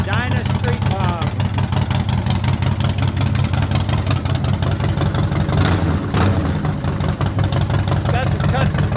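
A 2011 Harley-Davidson Dyna Street Bob motorcycle with a mid-glide front end idles loudly and close, a deep lumpy rumble with steady pulsing beats, while someone talks over it.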